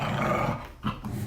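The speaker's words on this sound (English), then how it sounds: "The dogs." Dogs growl low and rumbling close by indoors, a short stretch of steady growls with a brief dip and then a renewed growl.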